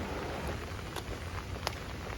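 Light rain drizzles at Kanheri Caves as a soft, even hiss of fine drops, with a couple of faint brief ticks standing out over the steady outdoor wash.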